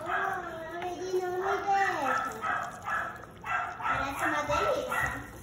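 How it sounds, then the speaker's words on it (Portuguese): Neighbors' dogs bark in bursts of yaps and whimpers from a nearby yard, repeated irregularly and mixed with children's voices and adult talk close by. "Até os cachorros dos vizinhos estão latindo."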